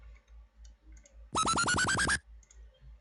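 A quick laser zap from the NI Massive synthesizer, played with a pitch bender, repeats in a rapid stuttering burst with a bending pitch, standing out loud against near silence and faint background ticks.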